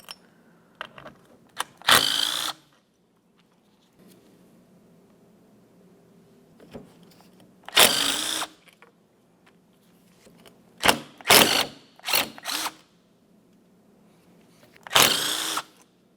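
Short power-tool whirs while four 10 mm bolts come out of the cooling fan on the fan clutch of a 2004–2015 Nissan Titan, several loud brief bursts separated by quiet stretches with faint background hum.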